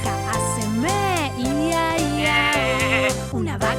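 In a Spanish children's farm song, a sung sheep bleat carries over a bouncy, steady accompaniment. A voice imitates the sheep with wavering, long-held tones.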